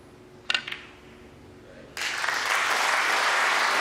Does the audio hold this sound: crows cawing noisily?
no